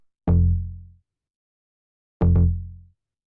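Two deep synth bass notes in a tech house track, each held for under a second with a gap between, the second note slightly doubled at its start; no other sound.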